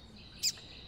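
A single short, high chirp from a coleiro papa-capim bird rings out near and clear against quiet background hiss.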